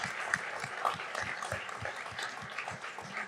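Applause from a live audience for five panel guests at a science bar event on the 2022 Quebec provincial election, a steady crackle of clapping with faint voices mixed in.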